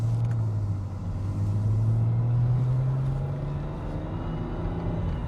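A roughly twenty-year-old Mercedes estate car's engine drones low and close, its pitch rising gradually as it accelerates, a steady rumble with no talking.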